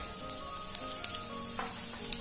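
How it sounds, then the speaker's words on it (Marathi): Half a teaspoon of mustard seeds dropped into hot oil for poha, giving a steady sizzle broken by sharp little crackles and pops, close by and alone. "तेल तापलंय, त्यात मी हे 1/2 टीस्पून एवढी मोहरी टाकून घेते आहे।"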